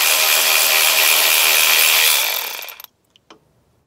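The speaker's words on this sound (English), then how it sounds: "I'll go ahead and use my electric ratchet." An electric ratchet spins loose a corroded bolt on a Mini Cooper S, with a steady, loud, harsh whirr for nearly three seconds that cuts off abruptly, followed by a couple of small metallic clicks.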